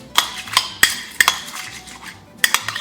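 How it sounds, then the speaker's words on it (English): A spoon stirring cereal and milk in a bowl, giving a series of close, bright clinks against the bowl at an uneven pace, a few quick taps clustered near the end. "You take some cereal, you add some milk, and even when you stir it all together"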